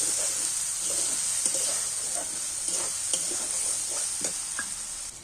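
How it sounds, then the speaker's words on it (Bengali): Poppy seed and chalmugra paste fries in a pan for an egg kofta curry, a steady hissing sizzle broken by the light scrape and tap of a spoon stirring, with no voices. "সেই পোস্ত আর চালমুগরা বাটাটা দিয়ে দিচ্ছি এর মধ্যে। এটাকে এবার ভালো করে কষিয়ে নেব।"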